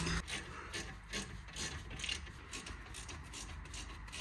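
A ratchet wrench tightens the front brake caliper bolts on a Mercedes E 220 BlueTEC W212, with quick rhythmic clicking in repeated bursts, close and fairly quiet, with no voices.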